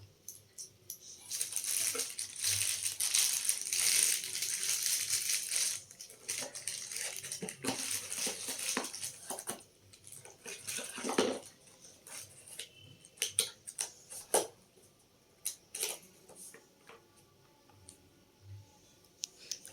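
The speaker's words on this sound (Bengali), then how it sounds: "তারপরে কড়াইশুঁটিগুলো আমি দিয়ে দিলাম। দিয়ে আমি আবার 2-3 মিনিটের মতন ভালো করে নেড়ে চেড়ে নেব।" Peas and mixed vegetables stirred in a wok for an egg pasta, producing irregular clinks, scrapes and clattering taps of the spatula against metal, fairly faint, busier early on and sparser later.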